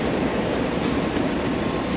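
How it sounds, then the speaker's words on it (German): An underground metro train rumbles loudly and steadily through an Amsterdam station, a dense rolling roar of wheels on rails with no voices. "Wir sind unten in der U-Bahn."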